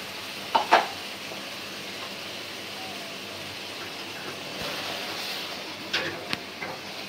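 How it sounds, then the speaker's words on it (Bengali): Rohu fish dopiaza curry being gently stirred after cumin powder goes in: a low, even sizzle with a couple of light spoon scrapes and clicks early and again near the end. "জিরা গুঁড়া যেহেতু দিলাম একটু নাড়া দেই আলতোভাবে।"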